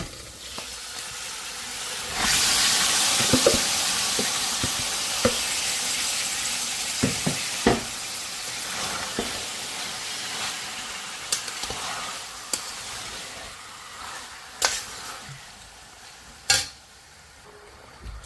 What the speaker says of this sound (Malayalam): സവാള ഒന്ന് വഴഞ്ഞിട്ടുണ്ട് അതിലോട്ട് നമ്മൾ തിരിഞ്ഞു വെച്ചേക്കുന്ന നമ്മുടെ പോർക്ക് അങ്ങോട്ട് ചേർക്കാം